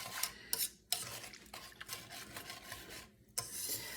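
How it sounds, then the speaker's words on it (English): A utensil scrapes and rubs through sugar and softened butter in a pan, making a gritty, rasping stir in uneven strokes with short pauses, close up and fairly quiet, with no voices. "I just want to dissolve the sugar and get everything blended before the heat goes on."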